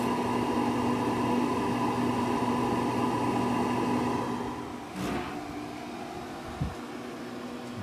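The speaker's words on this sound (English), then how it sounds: "the auger was spinning. It spins real slow." Traeger Elite pellet smoker running with a steady low mechanical hum and fan-like whir as its auger slowly turns, feeding wood pellets; the drone eases off midway, with a brief clunk and a soft knock later.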